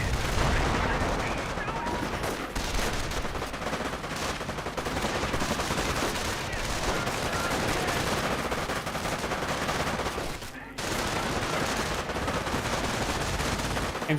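MG42 machine gun fire in the Company of Heroes strategy game, dense rapid bursts mixed with other gunshots and distant explosions, loud and nearly continuous with a short break toward the end.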